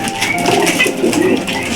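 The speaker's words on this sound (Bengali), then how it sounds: "সকল কবুতরের ডাক আলহামদুলিল্লাহ অনেক ভালো" Pigeons coo steadily at a pigeon farm, a dense, continuous murmur of overlapping calls close by, fairly loud throughout with no talking.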